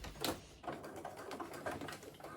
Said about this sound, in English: I want to start sewing from the seam allowance.